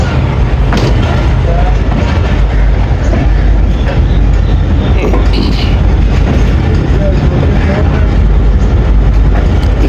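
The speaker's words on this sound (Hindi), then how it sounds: "डिपार्ट कर रही है हमारी ट्रेन अटक सिटी जंक्शन से" Jaffar Express train pulling out of Attock City Junction, a loud continuous rumble of wheels and carriages heard from on board, with a voice talking over it.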